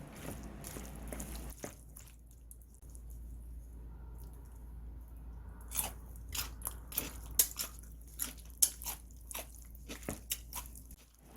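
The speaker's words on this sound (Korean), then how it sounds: "소리 들리지? 아삭아삭 소리." Crisp crunching bites of raw potato start out quiet and grow into a loud, irregular run of chewing crunches close to the microphone.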